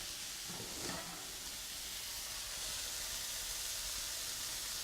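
Garlic dropped into a pan of cooked, translucent onions sizzles with a steady, soft hiss that swells slightly after a brief rustle at the start.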